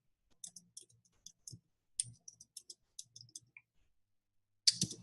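Someone types a search on a computer keyboard: quiet, irregular bursts of light key clicks with short pauses, then a final louder cluster of keystrokes near the end, in an otherwise silent room.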